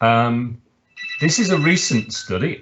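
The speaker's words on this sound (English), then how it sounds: "my apologies for the phone ringing." A telephone rings in one short, loud, harmonic burst at the start, then a person speaks over the quieter room that follows.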